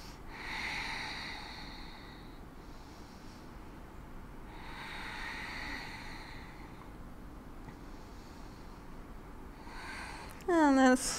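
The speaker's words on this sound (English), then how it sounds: "and breathe" A person breathes slowly and deeply while holding a yoga posture, with four long, soft breaths of in and out at an even pace, close and quiet, and a brief voice near the end.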